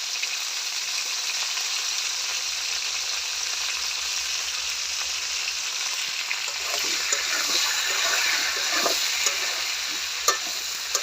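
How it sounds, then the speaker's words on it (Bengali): Vegetables frying in a hot pan, a continuous loud sizzle with occasional stirring scrapes and spatters close up. "সবজিগুলো ভালো করে ভেজে নিব।"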